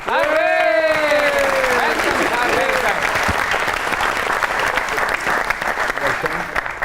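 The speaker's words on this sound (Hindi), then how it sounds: "आपकी बहुत सी तालियों में जनाब खलीलुर रहमान कमर।" An audience at a comedy talk show breaks into loud, dense applause that carries on steadily, with a voice speaking over the clapping at the start.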